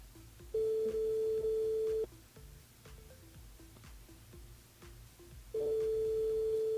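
A phone line rings through a radio station switchboard in long, steady electronic tones. Two extended rings are separated by a quieter gap of faint line noise and clicks, with no voices.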